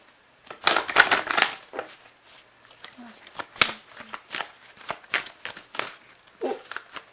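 Tarot cards shuffled by hand up close: a quick series of papery riffling and snapping bursts, dense at first and then in shorter separate flurries.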